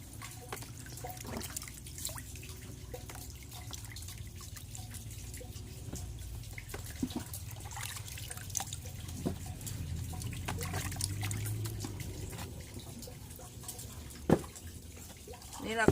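Bamboo shoots are washed under water for pickling, with faint splashing, trickling and scattered drips at low level under a quiet voice.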